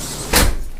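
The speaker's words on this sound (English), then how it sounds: "Close this door." A door swung shut with a single short thud midway, close and fairly loud against a quiet background with a faint rumble.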